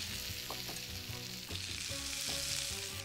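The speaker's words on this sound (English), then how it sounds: "Listen to that sizzle." A veggie hash brown mixture sizzles and crackles in a greased waffle iron, a loud, close, continuous frying hiss with faint clinks of stirring underneath, and no voices.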